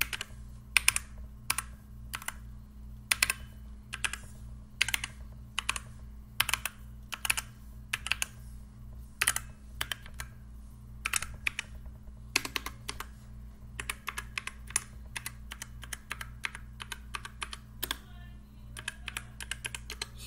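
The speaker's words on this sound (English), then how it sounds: "I'm just gonna press all the keys one time" Keys on a DIERYA gaming keyboard are pressed one after another in a steady run of crisp, close clicks, one key at a time with short gaps, over a low constant hum.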